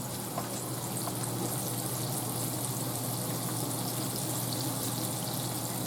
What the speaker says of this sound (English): And you hear it sizzling?